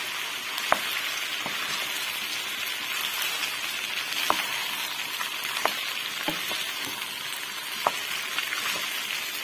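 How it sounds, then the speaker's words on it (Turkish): Basmati rice toasting in a pan for pilaf gives a steady close sizzle and crackle, broken by several sharp clicks of a spoon stirring against the pan. "Biraz kavuracağım, ondan sonra et suyunu döküyorum."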